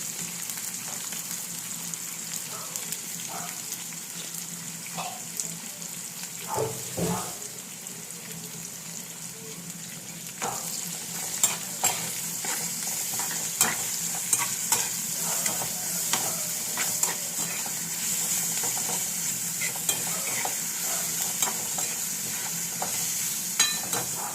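Chopped ginger and garlic fry in a pan with a soft, steady sizzle, joined by scattered clicks and taps of stirring that grow more frequent in the second half.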